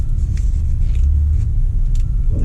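A truck engine idles steadily close by, just after brake adjustments on the front wheels, giving a continuous low rumble with no talk.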